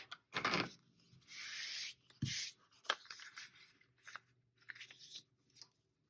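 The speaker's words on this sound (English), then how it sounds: "I'm gonna trim about a quarter inch from this stitch line." Quilt fabric and foundation paper are cut a quarter inch from a stitch line with a few crisp, crunching snips and rustles of paper, close and quiet, separated by short gaps.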